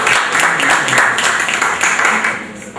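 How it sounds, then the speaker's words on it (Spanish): Applause from a seminar group on a course about payroll calculation, acknowledging a team coordinator; steady, fairly loud clapping from a room of participants that holds for about three seconds with no voices over it. "Un aplauso para César."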